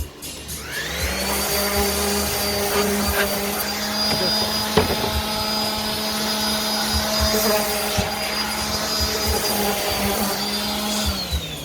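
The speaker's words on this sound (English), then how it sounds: "So I just take the hand palm sander," Hand palm sander buffing a routed wood edge, a loud steady motor whine that ramps up and runs continuously with scratchy contact noise, then winds down near the end.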